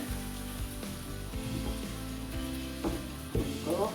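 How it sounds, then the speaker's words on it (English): Steady sizzling of chicken stew frying in a pan with stock, a continuous crackly hiss with a few clinks and stirring knocks near the end. "going to let that sizzle through now with the rest of the stock"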